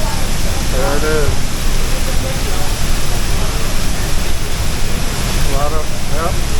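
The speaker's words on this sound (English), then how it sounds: "there's water splashing back up." Loud, steady rush of falling, splashing water at Niagara Falls fills the scene, with brief bits of distant talk now and then.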